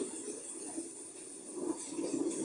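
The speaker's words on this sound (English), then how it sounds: "Light rain." Soft, steady hiss of light rain from a Vindsbay travel sleep sound machine, quiet and even with faint patter, no voices.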